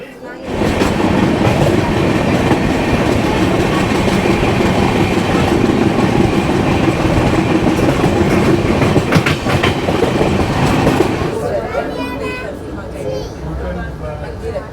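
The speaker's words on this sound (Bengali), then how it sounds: "ওই বলতে না বলতেই ট্রেন ছেড়ে দিয়েছে প্ল্যাটফর্ম থেকে" A passenger train pulls away from a station platform on the Visakhapatnam to Araku Valley line, with a loud, steady rumble and rhythmic wheel clatter that eases off slightly near the end.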